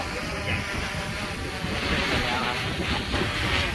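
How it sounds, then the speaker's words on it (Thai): Very strong wind gusts along the bank of the Mekong River, a loud, continuous rushing blast buffeting the microphone with surging swells throughout. "นี่คือลมแรงมากนะครับ ขนาดรองเท้ายังปลิวฮะ"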